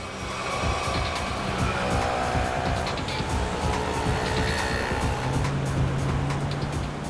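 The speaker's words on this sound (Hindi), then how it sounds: "गाड़ी तेज चलाओ।" A car driven fast in a chase gives a steady, loud roar of engine and road noise that runs unbroken from start to finish, with no voices.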